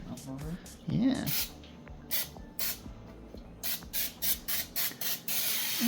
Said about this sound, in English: So let's spray that with some canola oil first.